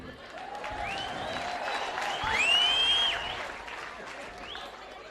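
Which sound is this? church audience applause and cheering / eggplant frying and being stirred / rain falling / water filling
church audience applause and cheering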